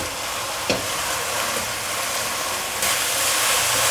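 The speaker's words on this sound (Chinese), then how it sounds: "把所有调味料炒匀。" Spinach and tofu puffs with seasonings stir-fried in a wok, giving a loud, steady hiss of sizzling oil with a brief scrape of the spatula near the start and a louder surge toward the end.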